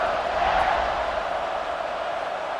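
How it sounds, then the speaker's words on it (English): A football stadium crowd buzzing during a tied fourth-quarter college game between Arizona and Baylor, awaiting a kickoff; a steady, loud wash of voices fills the air without pauses. "this crowd is buzzing after that last score"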